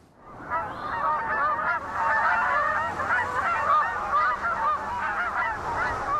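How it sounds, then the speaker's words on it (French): A flock of Canada geese on autumn migration honks continuously over a harvested corn field, many overlapping nasal calls, loud and near, with no talking. "ces bernaches du Canada entament leur grande migration"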